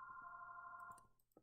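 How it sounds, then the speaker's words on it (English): A telephone rings with a steady electronic trill for about a second, then stops, followed by a few faint clicks and a soft knock. "And, of course, the phone is ringing."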